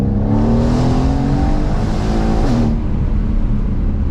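Loud, close engine roar of a 2016 Mercedes-AMG C63 (W205) with a Stage 2 tune accelerating hard, its pitch rising steadily, then a brief dip at a gear change before it keeps pulling.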